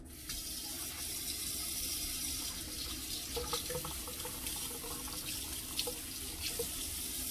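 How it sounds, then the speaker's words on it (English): Tap water runs steadily into a kitchen sink as a glove is rinsed under it, a continuous close splashing stream with a few sharper spatters midway. "I'm going to wash this glove off"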